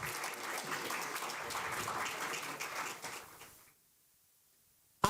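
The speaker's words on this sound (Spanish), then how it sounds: "Fuerte aplauso" Applause from an audience at a Spanish-language infrastructure panel, a dense sustained clatter of many hands that fades out after about three and a half seconds, followed by near silence.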